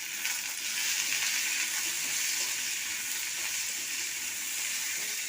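Potato pieces seasoned with salt and a little turmeric frying in a pan, a steady, close sizzle of bubbling oil that holds evenly throughout without any talk.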